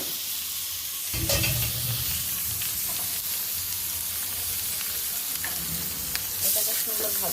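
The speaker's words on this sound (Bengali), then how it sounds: "এটাকে সুন্দর ভাজা ভাজা করে নিব।" Washed pulao rice frying in oil with a little ghee gives a steady close sizzle with occasional stirring scrapes throughout.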